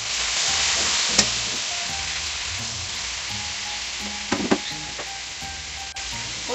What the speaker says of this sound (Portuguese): Quando ele está fritando e dando uma selada, nessa panela aqui